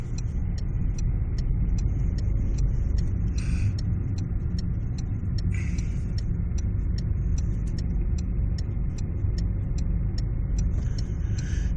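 Cars in a funeral procession roll past in a long steady rumble of engines and road noise, with regular faint clicking and a few brief higher bursts along the way.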